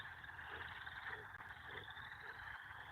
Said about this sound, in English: We just want to listen to the frogs now